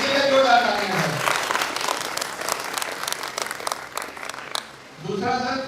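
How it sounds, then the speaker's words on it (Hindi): An indoor audience at a Hyderabad celebration breaks into close, sustained applause for a few seconds, with a voice talking before and after the clapping. "इसलिए जोरदार ताली है सर।"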